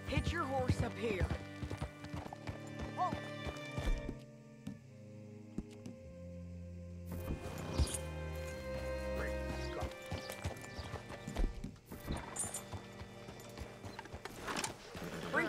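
Horse hooves in Red Dead Redemption 2 clip-clop in a steady rhythm, with a whinny and game music and ambience around them, fairly close and moderately loud.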